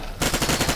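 Rapid automatic P90 gunfire in Fallout 4 bursts in suddenly and continues in a fast, even rhythm of loud close shots.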